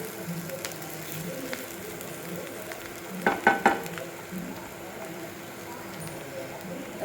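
A leftover chapati dish with boiled potato sautéing in a pan gives a soft, continuous sizzle, broken by a short burst of scraping and clinking stirring sounds partway through.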